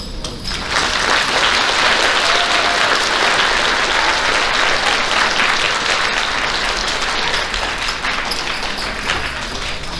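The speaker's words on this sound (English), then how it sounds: "Round of applause." A school awards ceremony audience at an elementary school gives steady, full applause that swells in and holds loud and dense for the whole stretch, with no talking over it.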